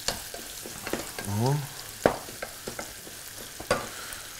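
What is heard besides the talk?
leeks sizzling and being stirred in a pan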